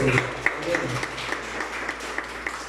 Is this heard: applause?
yes